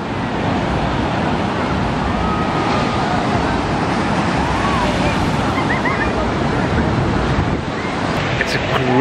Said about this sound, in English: This is the Kuta Beach. Well, this is some beach.